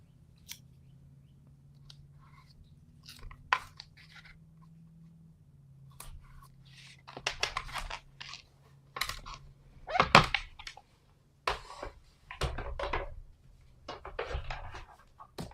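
Paper being trimmed with scissors at a craft table, with a series of quiet close snips and rustles that grow busier toward the end over a faint hum.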